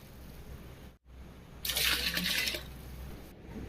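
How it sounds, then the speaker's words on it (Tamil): Water is poured into a cooking pot for mutton mandi biryani, a steady splashing gush lasting about a second, close and fairly quiet, with no talking. "அதனால் 15 கிளாஸ் வந்து தண்ணி ஊற்றுனுச்சு."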